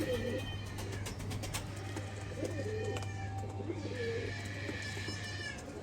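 Domestic Sialkot pigeons coo softly in low repeated murmurs, with higher bird calls and a steady low hum running through the background.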